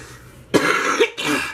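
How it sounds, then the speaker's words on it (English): Two harsh, throaty coughs close to the mic, separated by a brief pause, with no talking. "you guys might hear me cough and hack and breathe kind of heavy"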